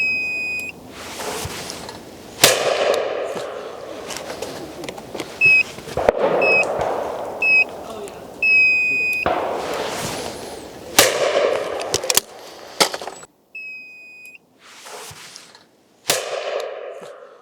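Shotgun blasts from an MK38 30-inch Sporter firing Fiocchi Highland Game cartridges at Bisley: about five or six sharp, loud reports at irregular intervals, each decaying quickly, with short electronic beeps between them.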